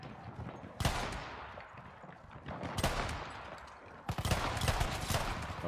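Gunfire from the Battlefield 1 video game: sharp broadband shots ring out at about 0.8, 2.8 and 4.1 seconds, the last opening a quick burst of several rapid rounds, over a steady rumbling battlefield ambience.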